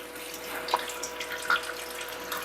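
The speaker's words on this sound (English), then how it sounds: "It's doing a pre-spray cleaning. Okay, there we go. So it's spraying." Water spraying steadily from the nozzle of a CleanSense bidet toilet seat, a soft, even hiss that runs without pause for the whole stretch at low volume.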